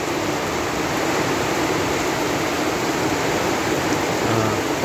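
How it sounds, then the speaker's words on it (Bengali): Morning rain falling steadily outdoors, an even, close wash of hiss and patter that holds constant throughout with no voices. "আজকে শুভ সকালেই বৃষ্টির পদচারণা আমরা লক্ষ্য করছি"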